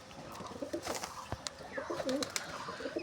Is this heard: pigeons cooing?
yes